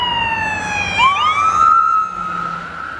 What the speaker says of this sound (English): Here's another ambulance. First responder. Nobody's pulling over.